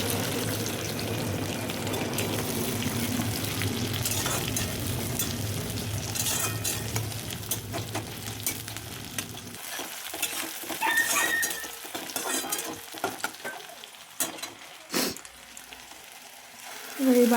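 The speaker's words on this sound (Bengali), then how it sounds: "পেঁয়াজ কুচিটা ভেজে নেব" Chopped onion frying in oil in a pan with bay leaf, whole garam masala and cumin: a dense close sizzle for several seconds, then a quieter, patchier fry broken by utensil clatter and scraping.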